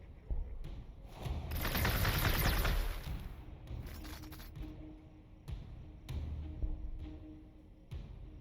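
Gunfire in the Warhammer 40,000: Gladius strategy game, a loud dense burst of rapid shots around the two-second mark followed by scattered single thumping reports, with no talking.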